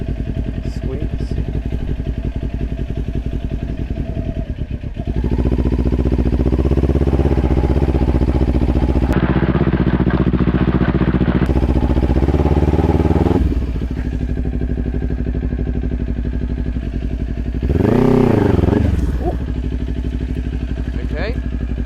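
A Kawasaki Ninja 400 motorcycle doing a burnout, its engine loud and close, rising into long sustained revs, dropping back, then giving a short sharp blip near the end.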